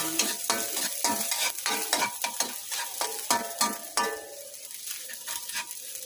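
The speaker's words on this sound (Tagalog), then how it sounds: "Nainit na yung ating mantika. Gisahin na natin yung ating bawang." Garlic sautéing in hot cooking oil, a steady sizzle broken by repeated scraping stirs of a utensil against the pan, close and loud, then easing into a quieter fry.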